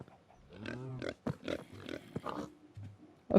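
Blocky pig oinking in Minecraft, a few short grunts in the first half, fairly close and clear over light game ambience, ending with a louder burst.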